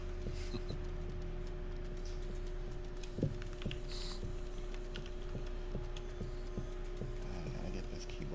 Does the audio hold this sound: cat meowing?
no